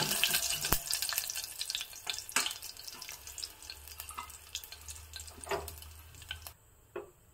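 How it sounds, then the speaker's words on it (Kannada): Curry leaves dropped into hot oil with mustard seeds and a dried red chilli for tempering a Mangalore Brahmin style tilisaru, giving a close, steady sizzle with sharp crackling pops scattered throughout and no voices. "ಒಗ್ಗರಣೆಗೆ ನಾನಿಲ್ಲಿ"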